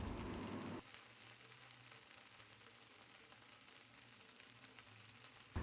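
Okra frying in a pan with chopped garlic and onion gives a steady, soft sizzle with faint crackles, quiet and even throughout after a brief louder burst at the start.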